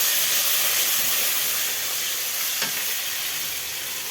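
Garlic paste frying in hot oil for a Bengali Malabar spinach dish, a steady loud broadband sizzle and hiss throughout with one brief stir or splatter near the middle, no voices.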